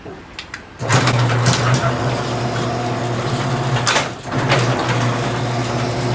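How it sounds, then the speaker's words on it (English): A residential garage door opener runs as the door closes, then reverses, with a steady motor hum, rattling panels and a brief pause before it resumes; a tone like a warning beep is mixed in. "I'm gonna let the garage door close, and then it's gonna swing right back up."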